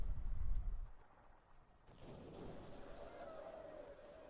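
A ship's cannon broadside in Sid Meier's Pirates!: one deep, booming blast that rolls off into a low, fading rumble, heard quietly and alone.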